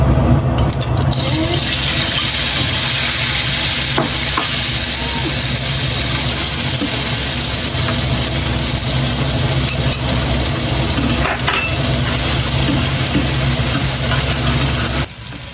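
Mustard seeds and cumin sizzle in hot oil, a loud, steady hissing crackle that continues without pause, with no voices over it.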